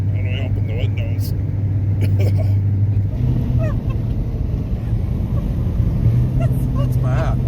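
A car with a major exhaust leak drives with its windows down, filling the cabin with a loud, rough, droning engine rumble that stays steady throughout while people talk over it.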